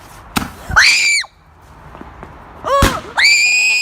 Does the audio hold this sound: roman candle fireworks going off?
yes